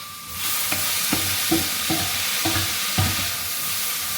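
Sausage and peppers sizzle steadily in a hot pan, a constant bright hiss broken by about half a dozen soft scraping stirs spaced roughly half a second apart, close and fairly quiet with no talking.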